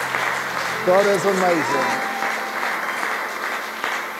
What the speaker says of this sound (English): Why don't we just give a clap offering for those online?